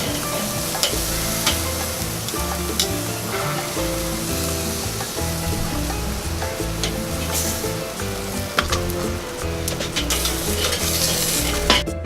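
Steak sizzling on an outdoor grill, a steady loud hiss and crackle of fat frying, with a few clicks of tools against the grate.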